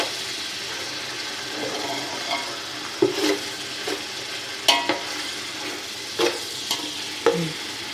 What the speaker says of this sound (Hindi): ये देखिए अदरक लहसुन भुन गया है